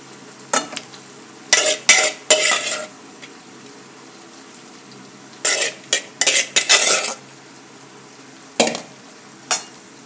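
A spoon stirs boiled eggplant and drumstick pieces into hot tempering in a pan, short bursts of scraping and clattering separated by quiet gaps, with a faint sizzle.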